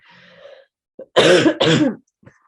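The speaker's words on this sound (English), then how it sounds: "I should mute myself when I cough." Two loud, close coughs in quick succession, preceded by a brief throat sound, with quiet gaps around them.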